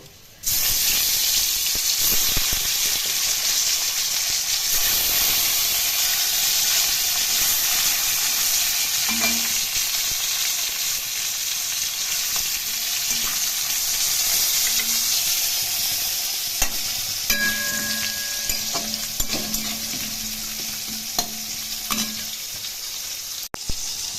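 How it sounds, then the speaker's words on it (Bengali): Hilsa fish frying in hot oil in a pan, a loud continuous sizzle and hiss close up, with occasional scrapes and light clinks of a utensil and no talk. "মাছগুলো একটু লাল করে ভেজে নেব"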